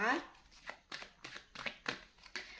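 Tarot cards being shuffled by hand during a reading, a quick series of soft papery riffles and slaps, about six short bursts at irregular intervals, close and fairly quiet.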